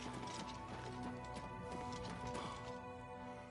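Horse hooves clip-clop steadily in the video game Oblivion Remastered, a continuous rhythmic trotting over dense game music and ambience, with a faint whinny mixed in.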